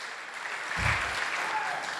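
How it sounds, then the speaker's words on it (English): Round of applause from the audience at a startup demo day in Cairo, clapping swelling in after a brief thump and carrying on at a moderate, even level to the end. "Please give them a big round of applause, because they did a great job with us in this cycle."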